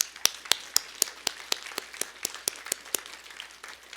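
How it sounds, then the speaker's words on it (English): A small audience honoring Michelson Prize laureates at a vaccine research talk gives a few sharp, evenly spaced claps in a quiet room, close and crisp, fading after about three seconds with no voices. "round of applause, that would be great."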